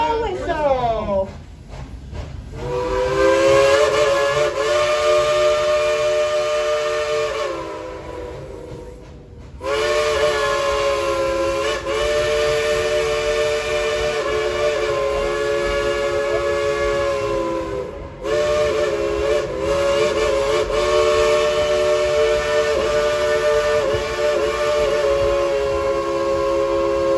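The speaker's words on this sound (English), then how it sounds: "let's tell Engineer Brad to blow that whistle" A Dollywood steam train whistle blows in three long, loud, sustained chordal blasts separated by brief gaps, with a hiss of steam and people talking faintly in the background.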